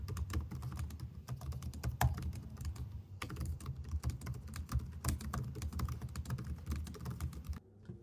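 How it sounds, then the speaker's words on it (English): Typing on an ASUS ZenBook Pro 14 OLED UX6404 laptop keyboard during a typing speed test, a steady close stream of quick, clicky keystrokes with no talking. "you can also hear like just the typing sound"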